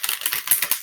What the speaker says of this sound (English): So I'm sorry for the long shuffling on camera